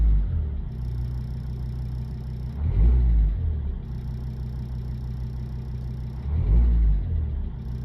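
Car engine running cold just after being started, a close steady idle rumble with two brief swells in revs, without any voices.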